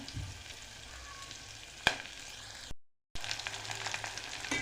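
Onions fry in a pan for veg pulao, sizzling quietly and steadily, broken by one sharp click and a brief silent gap before the soft crackle resumes.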